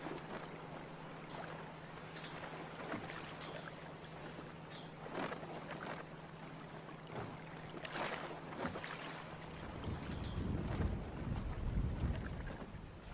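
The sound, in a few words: junk-rigged sailboat tacking, water and wind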